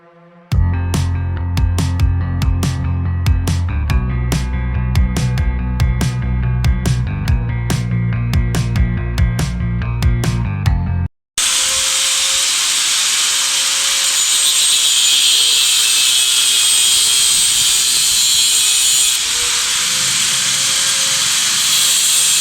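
A machine cuts steel pipe for a gate, producing a loud, continuous harsh hissing grind that fills the second half, after a stretch of sharp rhythmic tonal clanking.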